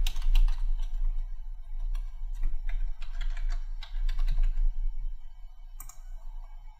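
Fingers tap rapidly on a computer keyboard during a web hosting account setup, a steady close patter of key clicks over a constant low electrical hum, with no voices.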